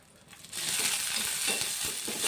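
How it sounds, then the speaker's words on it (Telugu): Rela flowers fry in a little oil while being stirred, a soft hiss that swells to a steady close sizzle with scraping stir strokes throughout. "పచ్చి వాసన పోయే వరకు వేయించుకోవాలి."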